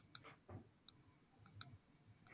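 Faint, sparse clicks from a small deliberate sound test, a few separate ticks spread across a quiet background, very soft and distant-sounding.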